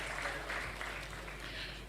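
Applause from the audience at the Saint Lucia National Youth Awards, a steady, dense wash of clapping that holds evenly across the moment without any voices over it.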